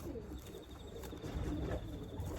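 A racing pigeon coos softly up close, a faint low murmuring call under quiet background noise.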